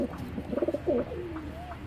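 Giribaz pigeons coo in a few soft, rolling bursts near the middle, with low background murmur throughout.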